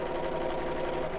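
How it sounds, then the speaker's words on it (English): A sewing machine stitching the edge of a fabric circle pouch closed hums in a steady, even drone at moderate loudness, with no talk over it. "I'm just going to sew it closed with my sewing machine"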